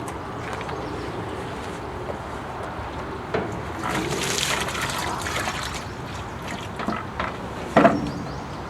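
Recycled acetone is poured into a 1968 Mercury fuel tank, making a soft trickling, gurgling flow of liquid over a steady background, with a few clunks and a sharper splash near the end.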